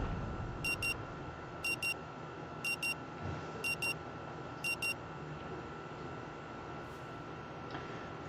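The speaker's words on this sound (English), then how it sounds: "The frenetic sound of the alarm nudges you back to the present." In the video game Rue Valley, an alarm clock rings in five evenly spaced double beeps, high and crisp over a low steady background hum, with no talking.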